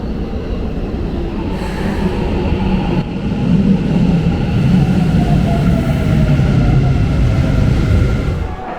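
A Tokyo metro train rumbles into a station, a loud low rolling roar that swells midway and holds, with faint tonal lines that may be the arrival jingle above the rumble.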